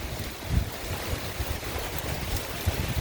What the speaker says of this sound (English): The initial gust front is pushing through.